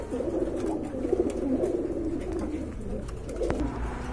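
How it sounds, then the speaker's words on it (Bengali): Lark pigeons, a pigeon breed, coo in a low, steady murmur close by throughout, with a faint background hum and scattered clicks, in a pigeon-selling setting. "এটা হচ্ছে আপনার লার্ক কবুতর তাই না ভাই?"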